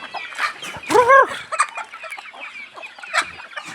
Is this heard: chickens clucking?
yes